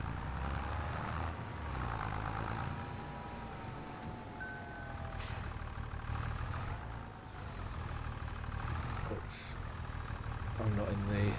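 Tractor engine in Farming Simulator 25 running at a low, steady idle-like drone with slight pitch shifts, under people talking over it, with a few brief clicks.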